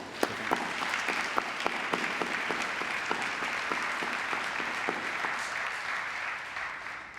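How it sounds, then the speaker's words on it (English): Graduates at a university graduation ceremony clap steadily, sharp individual claps standing out from a broad wash of applause that fades slightly toward the end. "perhaps the graduates can just give a clap to the parents and friends who are here"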